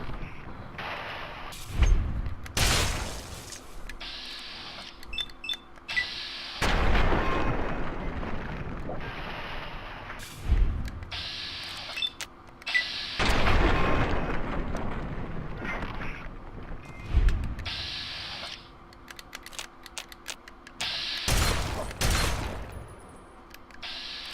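Gunfire and explosions from the video game Fallout 3 Point Lookout come as repeated loud bursts and booms, scattered irregularly across a rumbling, noisy background without talk.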